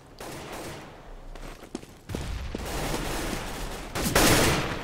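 Gunfire from a Counter-Strike: Global Offensive match on de_dust2 rings out in short bursts, with a sharp isolated shot early and heavier rapid volleys later amid game ambience.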